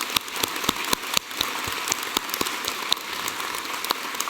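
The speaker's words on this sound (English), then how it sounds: "join with me and my colleagues up here in applauding the wonderful achievement of these graduates" Graduation ceremony audience at the University of Newcastle, Australia, applauding the graduates: steady, dense clapping from a large hall crowd with sharp individual claps standing out, sustained throughout.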